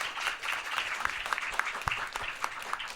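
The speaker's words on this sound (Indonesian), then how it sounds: "Tepuk tangan." Studio audience applause during an Indonesian television Quran-recital program, a full, continuous crowd clapping with scattered sharper claps standing out, sustained throughout.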